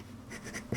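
A Jinhao 911 fountain pen nib scratches across paper in a few short, close strokes, ending with a louder tap or scrape.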